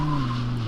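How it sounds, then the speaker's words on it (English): Tyres skid hard on an Audi RS6 GT or R8 GT during a braking test from 160 km/h, a loud, steady tonal squeal held for under a second with no talk over it. "let's have a brake test from 160 kilometers an hour"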